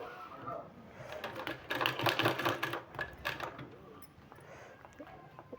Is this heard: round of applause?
no